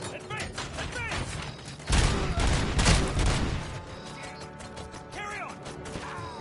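Covering gunfire in a RoboCop scene, a dense burst of shots and crashing impacts swelling midway, with shouted voices and battle noise around it.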